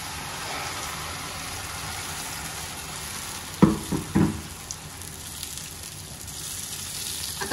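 Hot water poured into moong beans sautéing in a pan, a brief burst of splashing hiss over a steady background sizzle.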